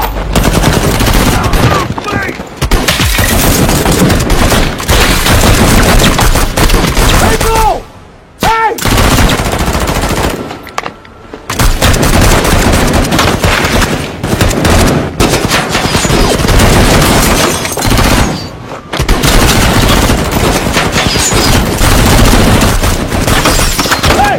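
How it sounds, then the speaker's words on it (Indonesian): Film shootout between anti-robbery police and bank robbers: dense, loud bursts of automatic gunfire and fusillades fill the scene almost continuously, broken by a few brief gaps, with occasional booms. "sehingga adegan saling tembak pun tak lagi dapat dihindarkan"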